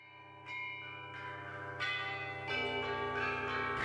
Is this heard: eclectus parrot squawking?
no